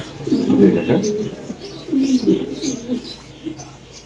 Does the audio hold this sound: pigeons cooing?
yes